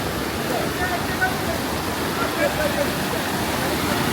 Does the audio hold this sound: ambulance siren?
no